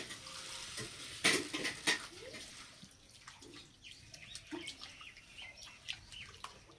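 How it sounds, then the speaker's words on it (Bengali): Flattened rice (chira) is washed in water in a bowl, giving faint, close sloshing and light clinks of the vessel in an irregular rhythm. "প্রথমে চিড়েটাকে পরিষ্কার করে ধুয়ে নেব"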